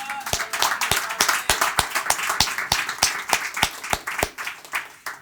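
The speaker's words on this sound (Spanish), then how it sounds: "Denle un fuerte aplauso a Dios." Rhythmic hand clapping from a church congregation, sharp even claps in a steady beat, continuing throughout.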